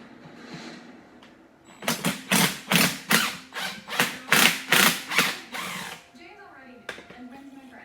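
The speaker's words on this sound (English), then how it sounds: "before we pull that bolt, we're going to pull the shifter" A 10mm wrench turning the shifter bolt on a Honda 300 engine: a run of about twelve rhythmic ratcheting bursts, close and loud, with quieter handling sounds before and after.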